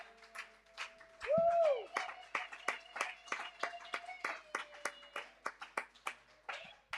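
A church congregation at a national conference claps in a steady rhythmic beat, crisp even claps repeating about twice a second, with a brief sung or shouted voice and a sustained organ tone underneath.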